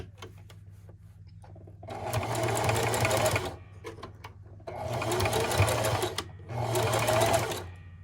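A serger sewing machine stitches ribbon onto a homemade medical mask in three sustained bursts of loud, steady whirring, separated by brief pauses with faint handling sounds.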